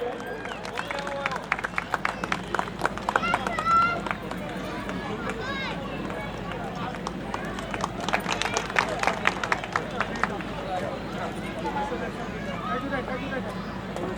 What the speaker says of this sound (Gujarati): રાજુલબેન માટે પણ જોરદાર તાળીઓ થઈ જાય